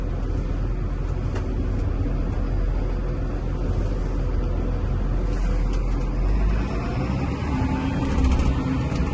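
A Massey Ferguson 7622 tractor with a 220-horsepower 7.4-litre engine drives along, its steady low engine rumble and drone continuing throughout without talk.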